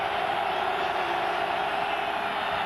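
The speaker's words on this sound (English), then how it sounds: "The crowd comes to its feet here in Charlottesville." A stadium crowd at a 1997 college football game in Charlottesville, Auburn at Virginia, rises to its feet with a steady, dense roar of cheering that holds at a constant level throughout.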